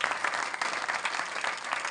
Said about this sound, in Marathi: त्यांचे करता जोरदार टाळी वाजवा